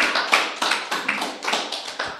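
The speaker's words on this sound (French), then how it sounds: "On peut l'applaudir, je pense, parce que là, c'était quelque chose." Steady, evenly spaced clapping from a conference audience after a talk, close and moderately loud, with no voices over it.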